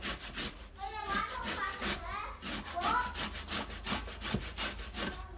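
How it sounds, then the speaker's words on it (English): Fresh ginger root rubbed back and forth over a grater for kombucha brewing, a steady run of rhythmic scraping strokes, close and fairly loud, with faint speech-like voices briefly audible in between. "I'm going to grate some of this ginger."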